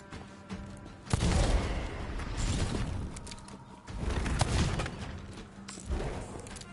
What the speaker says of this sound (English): let me fire off some shots here